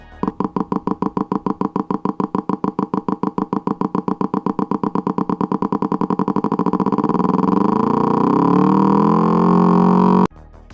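A three-cylinder motorcycle engine with a big bang firing order, likely a Triumph Tiger, running loud and close: evenly spaced heavy pulses that quicken into a continuous revving drone before cutting off abruptly.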